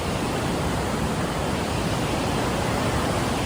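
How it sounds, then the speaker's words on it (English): Loud, steady rushing roar of a big waterfall right up close, a dense continuous wash of falling water with no pauses and nothing else heard above it. "That's a lot of water."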